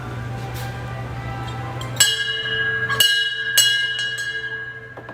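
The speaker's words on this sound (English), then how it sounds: "You can ring that bell, Joe." A small shop bell at Magic Kingdom is rung several times in quick succession, bright ringing strikes each leaving a shimmering tail, over a low hum of store background.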